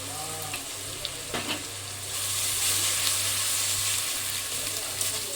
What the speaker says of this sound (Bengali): এবারে আদা বাটাটা দিচ্ছি